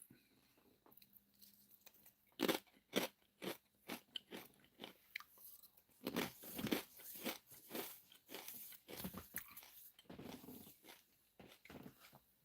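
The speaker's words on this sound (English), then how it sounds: "I am munching on some corn chips." Corn chips being munched close up: a run of sharp, crisp crunches and bites in uneven bursts, with quieter chewing between them and no talking.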